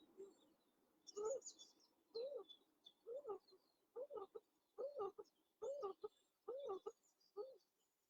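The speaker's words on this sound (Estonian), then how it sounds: "Õnnetuvi." A laughing dove calls in a series of soft, evenly spaced cooing notes, each a short rising-and-falling phrase repeated about once a second, faint and fairly close.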